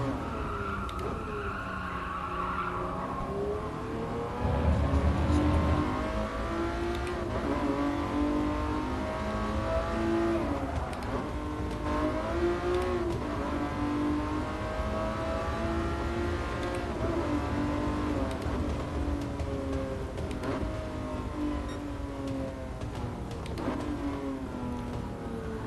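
A 1994 McLaren F1 in GT Sport, its V12 engine revving and shifting steadily through corners with loud sustained drone, changing pitch as it accelerates and short-shifts, tire noise beneath.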